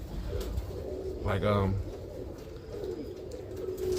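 Roller pigeons coo in a low, soft burst of throaty, rolling notes, close and clear against background noise, while a voice talks over it.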